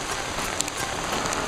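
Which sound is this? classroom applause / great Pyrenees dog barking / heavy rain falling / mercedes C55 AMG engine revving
heavy rain falling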